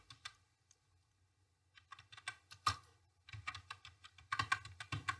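Quiet, close typing on a computer keyboard, entering a name into Tally ERP 9 accounting software, in scattered bursts of light key clicks with short pauses and no talking.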